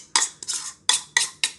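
Egg yolks and sugar being stirred into hot melted chocolate in a bowl, heard as five sharp scraping, clinking strokes of a utensil against the bowl in a steady rhythm, close and fairly loud, with no talking.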